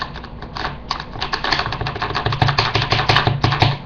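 Loose trigger on a BT TM-15 paintball marker, giving a quick run of small, close, sharp clicks and rattles in an irregular rhythm, with no talking over them.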